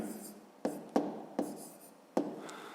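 A pen scratches on paper while writing numbers for a fifth-grade math exercise, several short distinct strokes and taps, close and quiet with no talk.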